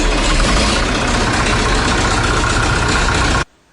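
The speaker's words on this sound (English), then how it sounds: "I got that Leyland tractor. We've got the tractor, and we've been going right through it, and it's all up and running now." A restored Leyland tractor engine runs loud and close in a steady, unbroken rumble, then stops abruptly near the end.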